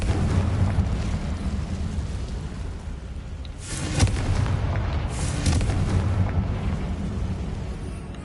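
Confringo explosion spell in the Hogwarts Legacy video game, a loud burst at about four seconds over a continuous roaring rumble of game effects, with a second swell following shortly after.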